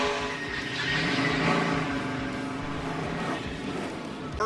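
NASCAR race cars spinning out at Daytona during Speedweeks, a loud roar of engines and tire noise building and holding as cars slide around, dense and close with no voices.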